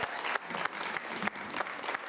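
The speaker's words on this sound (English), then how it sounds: "Let's give them a round of applause." An audience at an improv comedy show applauds with a steady patter of clapping that swells in slight surges and carries on throughout.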